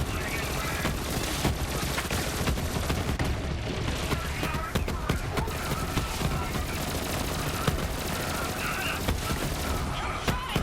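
Rapid automatic gunfire in the Borderlands 3 video game, dense and continuous with sustained bursts and booms throughout, loud and unbroken over a busy game soundtrack.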